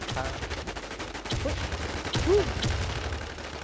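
Gunfire from the H1Z1 battle game: repeated sharp shots crack out in irregular bursts over a constant background rumble, loud and close.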